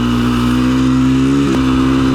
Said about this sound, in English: This engine just buzzes.